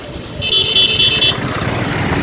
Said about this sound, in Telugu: full traffic